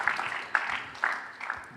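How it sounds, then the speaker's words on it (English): Applause from the audience at a football-for-development conference session, a moderate crowd clapping steadily with a few sharper bursts, fairly close and with no speech over it. "je vais demander de les applaudir encore une fois très très fort"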